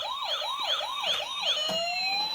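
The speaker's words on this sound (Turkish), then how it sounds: "Işıklı ambulans açıyor musun" Toy ambulance siren wails in repeated rising-and-falling sweeps, then drops into a steady rising tone near the end, clear and close at modest volume with no talking.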